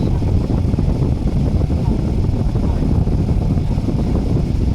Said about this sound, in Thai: เปิดพัดลมอยู่ที่สปีดสี่ แรงลมที่ได้ออกมาก็ได้อยู่ที่ 23กิโลเมตรต่อชั่วโมง